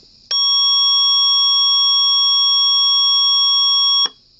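An Elk-110 siren driver sounds a steady electronic buzzer tone alone for about four seconds, loud and unwavering, then cuts off abruptly.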